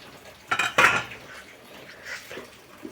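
A knife trims the corners of biscuit dough on a hard surface, two short scraping taps close together, then faint lighter knocks.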